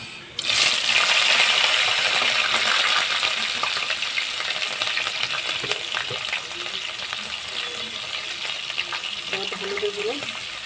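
Green chili and panch phoron tempering spices drop into hot oil for a Malabar spinach curry, setting off a sudden loud sizzle that settles into steady, close frying crackle.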